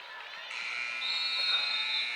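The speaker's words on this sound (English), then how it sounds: "at the buzzer" A sustained electronic buzzer sounds at the end of the first half of a girls' high school basketball game in a gym, a steady tone that shifts pitch partway through and holds for about two seconds.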